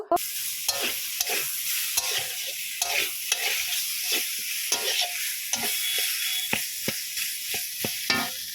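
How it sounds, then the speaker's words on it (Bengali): Potatoes fry in a pan with turmeric and salt for an aloo paratha filling. Repeated scraping stirs of a spatula ring out over a continuous close sizzle, with no talking. "আলুটা ভালো করে ভেজে নেব স্বাদ মতো হলুদ নুন দিয়ে"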